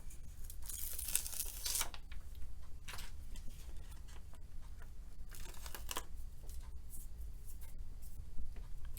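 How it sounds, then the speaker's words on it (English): Backing peeled off a 5 1/4 by 4 inch adhesive sheet for a card, quiet papery tearing and crackling in short bursts, close and faint, with no talk. "So I'm just going to peel off"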